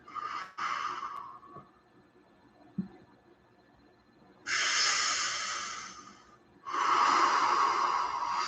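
Slow, deep meditative breathing close to the listener, with a brief exhale at the start and then two long, airy breaths separated by a quiet pause, with no talking.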